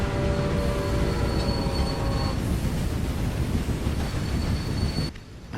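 Train rumbling steadily along the rails in the Railway Empire game, a loud continuous roll with faint wheel squeal and tonal whine, dropping away briefly near the end.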